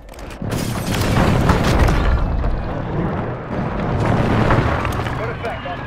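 An airstrike in Call of Duty: Warzone on Ashika Island sets off heavy booming explosions, a loud rolling low rumble that swells twice across several seconds, with faint radio-style voices underneath.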